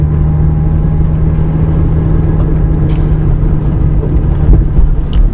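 A Mazda RX8 cruising through city streets with early, short shifts, its engine humming steadily from inside the car at a loud, even level with road rumble underneath.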